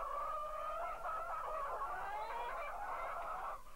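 Chickens cluck and call in an unbroken run of nasal, wavering notes, close and fairly loud with no voices over them.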